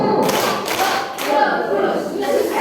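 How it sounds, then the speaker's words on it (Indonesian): An audience at a parenting seminar claps out a call-and-response rhythm game in quick, bunched bursts, fairly close and loud, with voices mixed in. "Coba tepuk satu"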